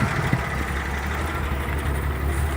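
An old car engine idling with a low, steady rumble, smoking slightly and in need of carburetor work, running close and continuous with no talk.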